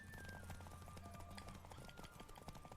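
A horse gallops in The Witcher 3 video game, its quick rhythmic hoofbeats clopping steadily and faintly under game ambience and background music.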